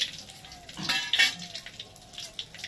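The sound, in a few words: bay leaves, cardamom, cinnamon, peppercorns frying in oil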